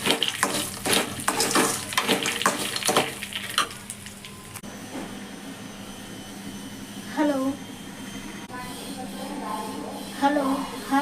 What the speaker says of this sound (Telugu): ఇడ్లీలోకి చట్నీ కోసం ఫ్రై చేసేసుకుంటా